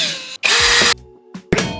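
Power drill whirring in two short bursts near the microphone, one long steady run then a brief second spin, on a scrapyard-rescue VW Polo being refitted.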